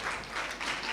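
Audience applause rises at a children's naat competition as a young performer is welcomed to the stage, a short, dense burst of clapping from a crowd.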